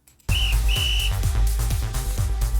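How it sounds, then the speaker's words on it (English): A coach's whistle in the video game My Alien Roommate gives two loud, shrill blasts, a short one then a longer one, over busy game music with thumping beats. "At the sound of Coach's whistle,"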